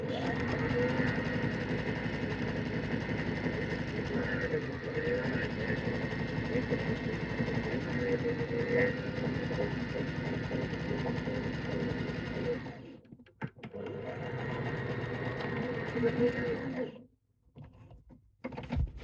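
Sewing machine stitching a seam in trousers, a loud, close, continuous mechanical whir that stops briefly, runs again for a few seconds, then halts with light clicks.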